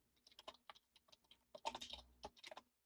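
Someone types on a computer keyboard, a quiet, irregular patter of key clicks in short bursts with a denser flurry near the middle before it stops.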